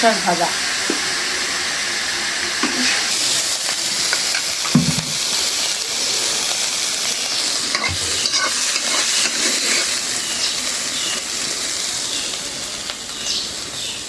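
Malabar spinach stems fry in a pan, making a continuous, close sizzle broken by occasional scraping and stirring knocks, with a voice heard only faintly now and then.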